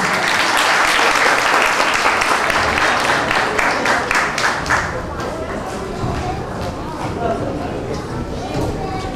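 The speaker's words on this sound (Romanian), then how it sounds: "Se aplaudă!" Sustained audience applause at a Romanian 1 March children's dance show, loud, dense clapping filling the room and tapering slightly after a few seconds while a voice talks over it.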